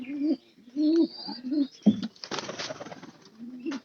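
Domestic pigeons in a loft coo in several short, rolling bouts, close and fairly loud, with a burst of rustling or flapping in the middle before one more coo at the end.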